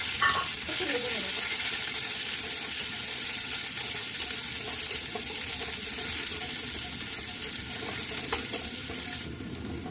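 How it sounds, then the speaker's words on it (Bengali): Chopped onion frying in hot oil with nigella seeds in a kadai gives a steady, close sizzle lasting throughout, with light scrapes and taps of a stirring spoon. "পেঁয়াজটা একটু ভাজা হয়ে গেছে"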